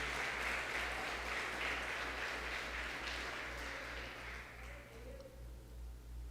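A church congregation applauds during a Portuguese-language service, a fairly faint, sustained round of clapping over a low steady hum that thins out toward the end.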